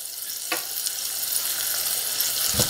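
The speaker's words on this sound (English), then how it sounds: "we're just going to sweat this guy down here a little bit. Not much, 2 to 3 minutes till the onions are translucent" Chopped onions sweating in a pan for calzone filling, a steady close sizzle with occasional stirring scrapes, no talk.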